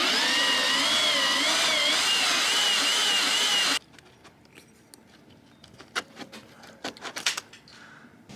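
A power tool whirs loudly and steadily for a few seconds while unscrewing deck fitting bolts on an old catamaran, then stops, leaving scattered clanks and knocks from handling.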